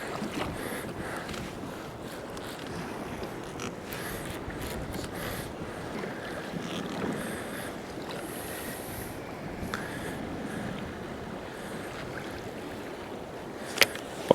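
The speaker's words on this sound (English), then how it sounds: "The wind is really ripping" Strong wind roars steadily across the water during kayak fishing for rockfish and lingcod, a dense, continuous rush with faint splashing and creaks from the kayak and a sharp knock near the end.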